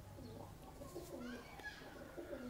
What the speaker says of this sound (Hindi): बाजी वाला कबूतर है किसी का